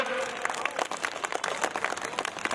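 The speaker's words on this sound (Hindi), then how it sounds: "एक बार जोरदार तालियां हो जाए पुष्पांजलि आपको।" Crowd clapping at a Hindu festival gathering, lively and uneven with individual claps standing out, moderately close and continuing throughout.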